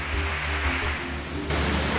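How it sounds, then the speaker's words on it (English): A creek flowing at its normal level near a cabin, heard as a continuous close wash of water noise with no voices. "This is how my main creek normally looks."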